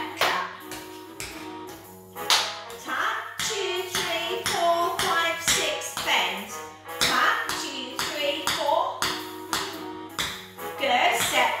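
Beginner tap dance steps on the floor in a practice class: a brisk, rhythmic series of sharp taps and shuffles alongside music, with an instructor's voice heard now and then.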